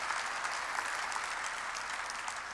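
Applause from a church congregation during a Korean sermon, a continuous wash of many hands clapping at moderate, even level with no pause.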